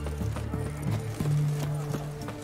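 Rhythmic hoofbeats of a galloping horse in The Witcher 3, a quick repeating clip-clop close by with a low engine-like drone underneath, no talk heard.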